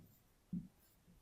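A pen makes one short scratching stroke on paper, soft and close, in an otherwise quiet room.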